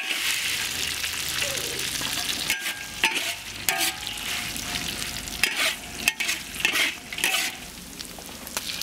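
Pigeon stir-fried with red chilies, garlic, ginger and Sichuan peppercorns in a wok, giving steady loud sizzling with repeated scraping and clanking stirs, close up.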